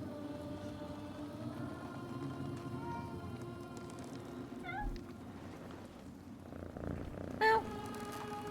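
A cat purrs when petted inside a mill house in the game Mandragora, a soft, steady rumbling purr under ambient music, with a brief meow-like chirp near the end.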